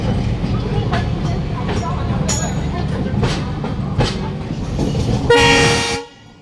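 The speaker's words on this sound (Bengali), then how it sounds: "WDG-3A ডিজেল ইঞ্জিন পাস করছে একদম পুরো আমার ট্রেনের পাশ দিয়ে" A WDG-3A diesel locomotive runs right alongside a moving express train, a steady rumble with repeated rail clatter and a loud horn blast near the end before the sound cuts off sharply.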